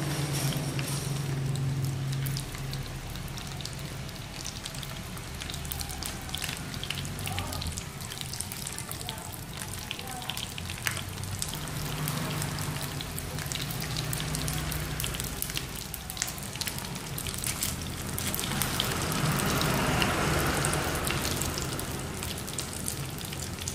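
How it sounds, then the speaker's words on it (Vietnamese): Pork spring rolls (nem) sizzling in hot oil, a steady broadband crackle and hiss running throughout at moderate level, with faint kitchen background and occasional soft clinks. "Khi mỡ sôi rồi thì các bạn mà nóng như này rồi thì các bạn cho mình bánh chả vào để mình rán nhé."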